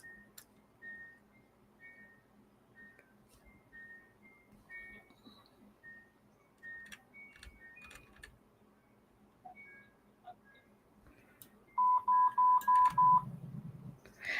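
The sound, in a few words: baby monitor beeping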